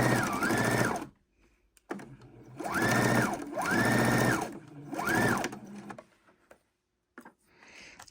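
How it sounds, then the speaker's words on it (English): Sewing machine stitching straight across apron fabric, several bursts of close, loud motor whirring with rising and falling pitch as speed changes, separated by short pauses and a few handling clicks, no talk. "We're going to stitch right across, removing our needles as we come up to them."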